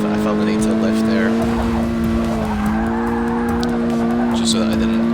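A Ford Focus ST in the racing game Forza 6 slides sideways, its engine holding a loud steady drone with tire squeal layered over it, while a person talks throughout.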